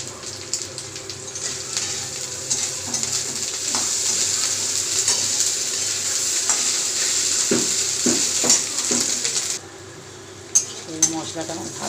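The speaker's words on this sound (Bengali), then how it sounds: "রসুন আদাটাকে আলু পেঁয়াজের সঙ্গে ভালো করে ভেজে নেব" Continuous sizzling of ginger and garlic frying in a pan with potatoes and onions, with occasional stirring scrapes and clinks; birds chirp faintly in the background.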